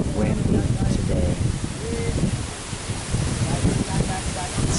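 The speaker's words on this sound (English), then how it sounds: "really windy today. Really, really windy today." Strong wind buffets the microphone in a steady, rumbling roar with gusts rising and falling throughout.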